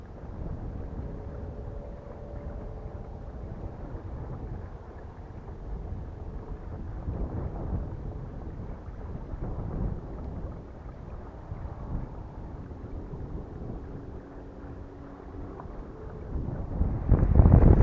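Strong, uneven wind on a lake reservoir buffets the microphone in a steady low roar that rises and falls in gusts, growing louder toward the end.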